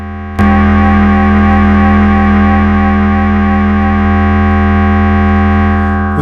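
A loud, steady sustained tone from the Digital synth by Max for Cats with chorus engaged, thick and harmonically rich, holding for several seconds after a sharp onset, with no talking.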